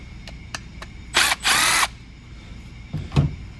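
Loosening the mass airflow sensor screws on a 2006 Saturn Ion Redline with a 5.5 mm driver: a few light clicks, then two short, loud bursts of a power driver close up, followed by a couple of tool knocks.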